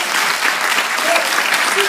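An audience at an EELV federal council applauds a speech, dense continuous clapping filling the room, loud and close, with no pauses for the full stretch.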